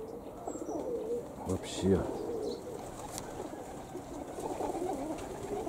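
High-flying pigeons coo softly near a loft under an open sky, low murmuring calls beneath someone speaking briefly in Russian.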